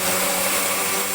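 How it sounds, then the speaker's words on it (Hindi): A kitchen blender whirring steadily at high speed as it purées mango for homemade ice cream, a loud, continuous motor drone with no talking. "अब हम इसको ब्लेंडर में डाल के ब्लेंड करेंगे।"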